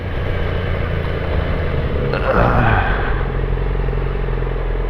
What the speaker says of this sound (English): Yamaha R6, 2006 model